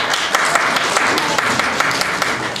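A quiz-show audience claps together to vote on an answer, a close, dense burst of applause running steadily for a couple of seconds.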